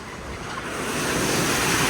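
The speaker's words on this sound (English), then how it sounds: "Good amount of wind." Strong wind gusting during an afternoon rainstorm, a loud broadband roar that builds over a couple of seconds and buffets the microphone.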